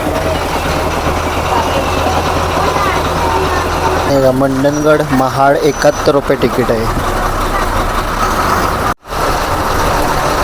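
A bus on the Mandangad to Mahad route drones at a steady idle, its engine rising briefly as it pulls away, while someone talks over it near the middle.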